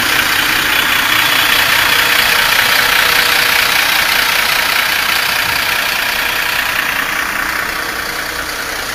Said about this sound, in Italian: sono due autobus fermi, col motore acceso, ma sono fermi